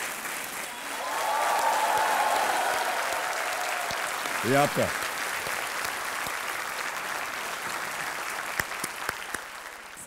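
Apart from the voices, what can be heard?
studio audience applause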